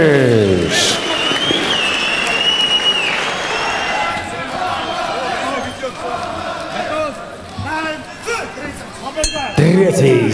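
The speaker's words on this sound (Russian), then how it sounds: "Аплодисменты, Воронеж!" Audience applause and crowd noise at a Donskaya Bitva combat-sports event in Voronezh, a continuous loud mass of clapping and chatter with an announcer's voice over it and sharp clinks near the end.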